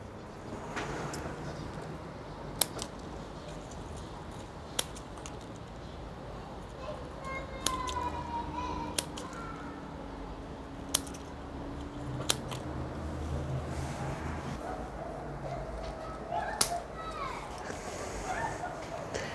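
Upper leaves being snipped from garden plants with scissors, sparse sharp cuts spaced a few seconds apart over a steady outdoor background, with a person talking throughout.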